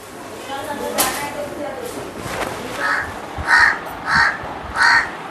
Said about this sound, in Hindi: मुझे बताओ कुछ परमानेंट सोल्यूशन है क्या कौवे का, बहुत काँव करता है